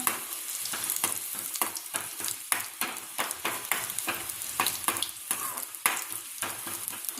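Garlic frying in hot oil in a pan, stirred steadily, giving a continuous close sizzle broken by repeated scraping strokes of the spoon, with no talking.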